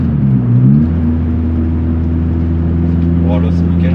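A VW Golf 2 GTI 8S engine idles as it warms up, a steady low rumble with an even hum near the microphone and a brief lift in revs at the start.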